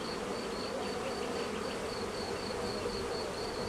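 Honeybee colony humming steadily from an opened hive during an inspection, a dense continuous buzz of many bees close by with no other sounds.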